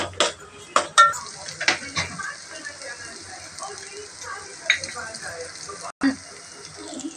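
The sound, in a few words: mutton masala and Kashmiri chilli powder frying, stirred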